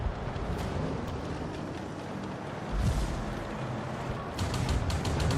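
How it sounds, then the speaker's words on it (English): A 152mm BR2 tank cannon fires in a video game, giving one deep, heavy boom partway through over a steady, dense rumble of engine and battle noise. "That's a much faster reload on the 152mm BR2 cannon."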